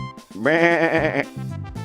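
Sheep bleating loudly and close, one long wavering baa followed by a shorter second bleat, with no talking.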